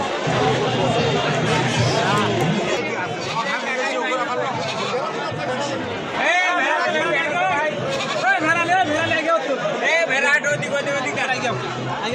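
Garol sheep bleat repeatedly at the Tebaria livestock market in Natore, their cries mixed into a busy crowd of people talking and haggling close by.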